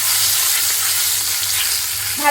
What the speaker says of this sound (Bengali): সিদ্ধ রসুন সেটা দিয়ে দিলাম দিয়ে ভালো করে নাড়িয়ে নেব